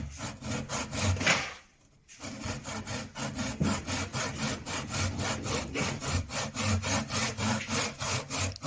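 Hand saw cutting wood for box lids in a vise, steady back-and-forth strokes with a brief pause before the rhythmic rasping resumes, close and loud, no talking.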